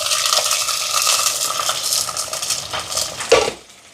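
Green chillies, garlic and shallots sauté in hot oil with fenugreek, a bright continuous sizzle with a brief metallic clink of a utensil near the end.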